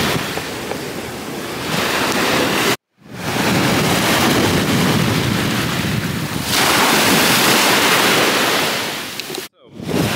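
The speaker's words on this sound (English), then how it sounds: "it's a lot more choppy and windy here" Choppy sea waves and strong wind at Puka Beach in the Philippines, a loud continuous wash of surf with heavy wind buffeting the microphone, broken by two brief drops to silence.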